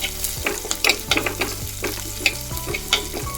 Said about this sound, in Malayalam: കുറച്ച് കറിവേപ്പിലൂടെ ഇട്ട് കൊടുത്തിട്ട് നല്ലോണം വഴറ്റാം